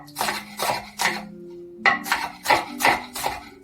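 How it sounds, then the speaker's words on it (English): Onion chopped into small pieces with a knife on a cutting board: a steady series of about eight crisp, close chops with a brief pause partway through, over faint background music. "So I just chop it up into, for me, I just like the really small pieces."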